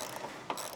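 Ratchet wrench with a 7/16 socket tightening a roof rack mount bolt on a Subaru Crosstrek, a quiet, steady mechanical clicking with one sharper click partway through.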